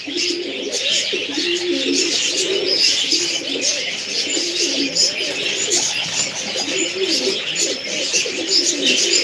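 Baska pigeons coo in a dense, overlapping chorus of repeated low throaty calls mixed with brief higher chirps, close and continuous throughout with no talk.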